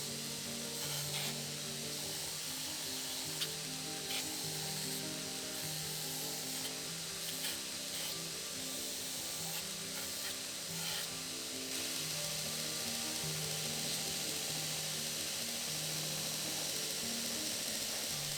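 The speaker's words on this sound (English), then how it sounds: "I just take it right back to the belt sander to get the rough outline done." A belt sander grinds steadily at a knife handle, roughing out the outline of a first homemade steak knife, a continuous abrasive hiss with a humming motor tone that stays close and even throughout, with no talking.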